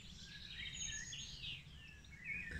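Several birds sing and chirp continuously in a small wooded patch, their high calls overlapping at moderate distance against a low steady rumble, with no voices present.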